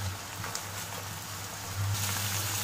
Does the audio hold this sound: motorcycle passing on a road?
no